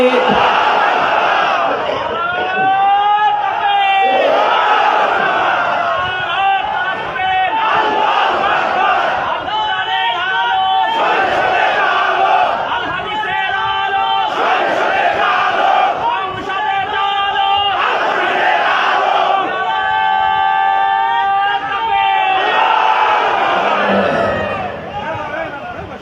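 A crowd at an Islamic sermon gathering chants the takbir in loud, sustained rhythmic waves, with many voices answering together throughout and only a brief drop near the end.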